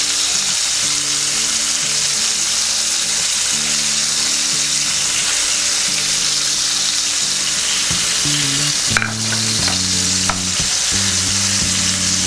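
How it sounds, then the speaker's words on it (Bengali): Prawns frying in hot oil in a wok for dahi prawn, a loud, constant crackling sizzle close by, with a brief scrape or clatter near the end and no speech. "চিংড়ি মাছ কিন্তু কড়ার মধ্যে দিলে, তেলের মধ্যে যখন ফ্রাই করে"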